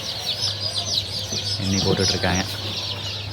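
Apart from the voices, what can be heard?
country chicken chicks chirping while being boxed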